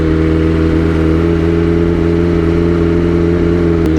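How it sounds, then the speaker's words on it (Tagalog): A BMW M1000RR sports motorcycle idles high right after starting, its engine holding a steady, smooth, loud hum with a constant drone close by and no talking. "Pag in-start ko, ang taas ng RPM."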